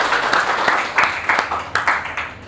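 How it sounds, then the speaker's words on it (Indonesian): A classroom group at the end of a teacher-training lesson claps their hands, a brief burst of fairly close, uneven applause with several sharp individual claps standing out, fading after a couple of seconds. "tepuk tangan untuk kita semuanya"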